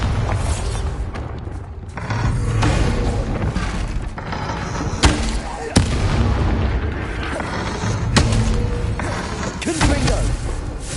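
Booming Confringo and Bombarda spell explosions go off in Hogwarts Legacy, with heavy thuds and blasts repeating every couple of seconds over a dense, loud game mix.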